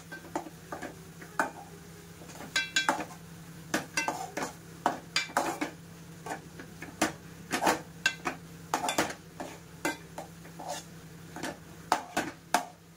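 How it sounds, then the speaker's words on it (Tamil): Onions frying in a pan for a simple egg bhurji, with frequent sharp clicks and scrapes of a spoon against metal over a low, quiet sizzle. "நல்லா வதக்கிக்கலாம்"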